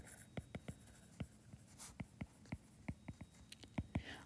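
Pen or marker writing an angle label for a geometry lesson on angle pairs, a series of short quiet strokes and taps at an uneven rhythm, close and faint with soft breathy sounds.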